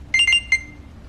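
A short electronic alarm from a Samsung Galaxy Watch Active 2 beeps in three quick bursts, the first two close together, then a pause before the third, thin and high-pitched, followed by quiet.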